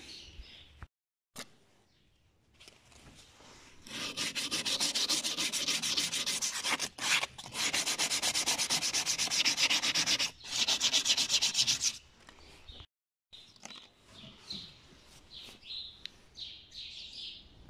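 Steady rasping sanding on a mirror blank lasting several seconds, with short pauses between passes, quieter scraping before and after, and faint bird chirps in the background.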